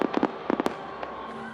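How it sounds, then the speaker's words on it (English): Fireworks bursting over the National Mall on July 4th, a rapid cluster of sharp crackling pops followed by a lone later bang, loud with a lingering rumble. "So one more thing about those fireworks."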